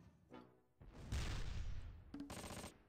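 An Achilles tank destroyer firing in the Close Combat game at Sword Beach: a faint, distant scattering of shots with one longer roaring blast and a sharp later crack, all quiet and heard without talk.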